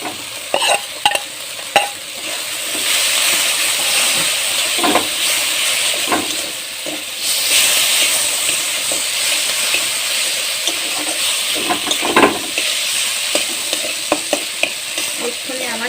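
Potatoes drop into hot oil with a few sharp knocks, then fry in a pan as a loud, steady sizzle with intermittent scrapes and clinks of a stirring spoon.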